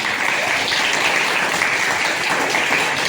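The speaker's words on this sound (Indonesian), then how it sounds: "Kasih tepuk tangan buat temannya dua" Students in a classroom applaud two classmates, a dense, steady burst of many hands clapping together, loud and close, with no talk over it.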